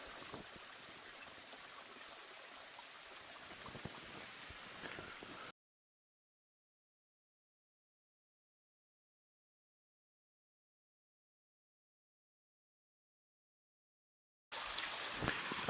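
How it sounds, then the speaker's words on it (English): A small waterfall at Turpentine Campground gives a faint, steady rushing of water. The rush breaks off into a long stretch of total silence before returning briefly at the end. "I'm hoping you can hear the sound of the waterfall properly."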